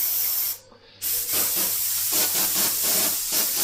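A close, steady hiss of an airbrush spraying thinners that pauses briefly, then resumes with a fluttering, airy texture.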